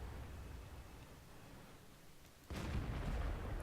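A tank's ammo rack explodes in World of Tanks, a sudden heavy blast cutting in over steady battle rumble and ringing out loud and close.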